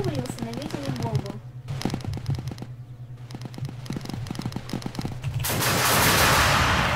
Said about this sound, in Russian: Ракетный обстрел.